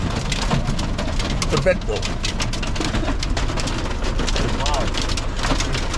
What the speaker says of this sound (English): So we don't have umbrellas, and it's hailing.